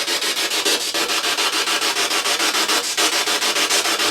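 A spirit box radio scanning sweep, a loud, continuous hiss of static chopped into rapid, even pulses as the device steps through stations, steady for several seconds with no voices.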